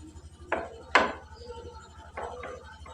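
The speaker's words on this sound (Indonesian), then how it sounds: "Nanti ampelannya tak iris dulu pemirsa" A knife slices chicken gizzards on a cutting board in a home kitchen, giving a few separate close, crisp cuts with short pauses between them.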